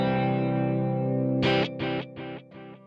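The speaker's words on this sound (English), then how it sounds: "Just a little quarter note delay" Electric guitar chord rings out, then a quarter-note delay repeats it in four evenly spaced echoes, each quieter than the last, with a distorted, effects-heavy tone and no talking.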